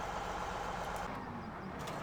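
A combine harvester's engine idles in Farming Simulator 17, a steady, fairly loud low rumble that holds evenly with no voices over it.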